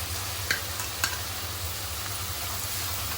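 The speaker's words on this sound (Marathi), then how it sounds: "टोमॅटो घालायचं आहे" Tomatoes going into a pan of eggplant bharit sizzle steadily, a close, continuous fry with a couple of brief scrapes or clinks near the start and no speech.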